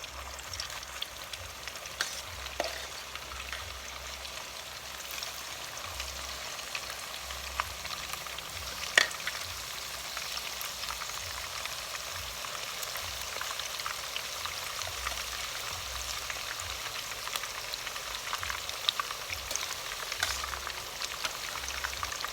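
Banana blossom fritters fry in hot oil with a steady, soft hiss and faint crackle that runs unbroken throughout, with no voices.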